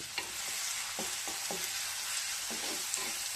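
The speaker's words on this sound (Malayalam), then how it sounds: "ഉള്ളി ഇട്ട് കൊടുക്കുകയാണ്" Onions sizzle steadily in a new hot pan while a utensil scrapes and taps against it several times. No voices.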